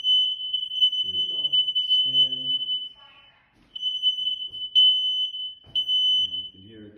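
Kidde smoke detector in a first-floor living room sounding a loud, steady, high-pitched alarm tone that briefly drops out midway, with someone talking over it.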